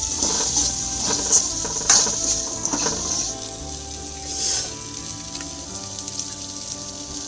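Curry leaves and turmeric powder sizzle and crackle in hot oil for a country chicken curry, with a steady spitting fry broken by sharp popping bursts, close and fairly loud.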